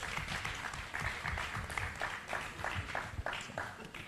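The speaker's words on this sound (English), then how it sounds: "A big round of applause, please." An audience at a technology panel event applauds the managing director of a telecom company as he is welcomed, fairly faint, scattered claps with distinct individual hand strikes standing out over a thin crowd bed.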